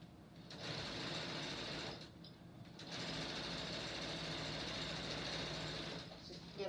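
A sewing machine runs fast and close through thin fabric for a window panel, in two long steady bursts of stitching separated by a brief pause.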